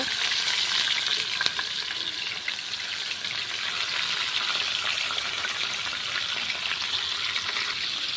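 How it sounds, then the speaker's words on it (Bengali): Small dela fish fry in hot oil in a frying pan, giving a dense, steady crackling sizzle that holds evenly throughout, close up and with no talking. "তেল গরম হয়ে গেছে এবার আমি এই মাছগুলো ভেজে নেব"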